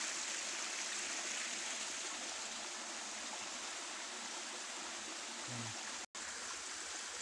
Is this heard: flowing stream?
yes